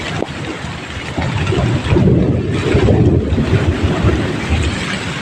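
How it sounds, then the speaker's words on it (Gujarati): Strong wind gusts during a rainy thunderstorm buffet the microphone in a loud, continuous, rumbling roar that swells and eases, with no speech over it. "પવન તો ઘણો આવે."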